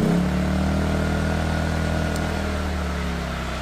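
A portable digital inverter generator runs in eco mode with a steady, close engine hum that settles slightly lower over a few seconds. Nobody speaks.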